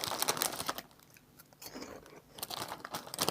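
Close, loud crunching and chewing on Zeo curly crispy snacks, bursts of crisp bites with a quieter pause in the middle, with no talking.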